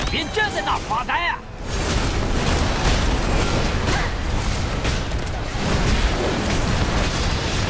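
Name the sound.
explosion in the video game World of Warcraft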